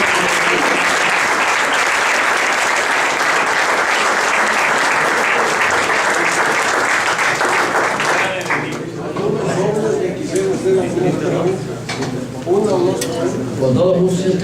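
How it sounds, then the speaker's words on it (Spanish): Audience applause at a Spanish-language lecture in Guadalajara, a full steady round of clapping that drops off after about eight seconds, followed by scattered claps and someone talking. "Este aplauso vamos a repetirlo para Guadalajara."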